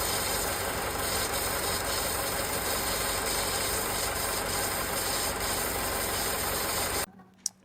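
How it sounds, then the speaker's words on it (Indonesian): A car engine idles with a continuous broadband rumble and hum for several seconds, then cuts off abruptly into near silence with one faint click. "Ini mesin nyala."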